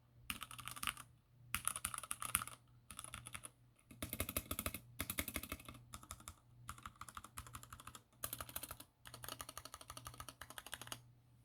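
Bursts of rapid clacking keystrokes on a worn, cheap secondhand computer keyboard, close and clear, coming in uneven runs separated by short pauses, with a faint steady hum underneath and no talking.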